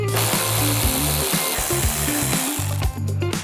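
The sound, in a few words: ratchet removing two bolts in Ford F-150 fender well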